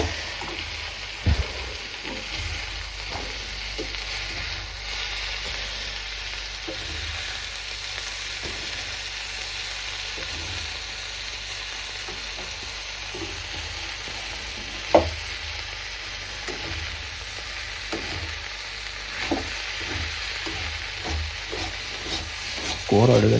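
Bitter gourd fry sizzling steadily in a pan for a long stretch, with occasional scraping stirs and a few sharper knocks, a constant low hiss throughout and no talking.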